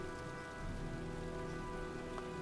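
Heavy rain pours steadily during a storm in the Heavy Rain video game, a dense, even patter on surfaces with a faint low hum beneath, continuous and without talk.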